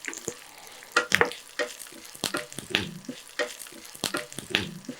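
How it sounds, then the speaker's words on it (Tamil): Dried red chillies and fennel seeds frying in oil over a low flame, a light crackle punctuated by regular scraping stirs and taps of a spoon against the pan. "இதை வந்து ஒரு நிமிஷம் லோ ஃப்ளேமில் அப்படியே வறுத்து எடுத்துக்கலாம்."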